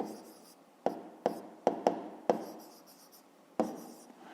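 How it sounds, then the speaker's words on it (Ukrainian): A pen writing on paper up close, with short scratchy strokes broken by six sharp taps as the pen lands on the page, no voices. "записуємо відповідь"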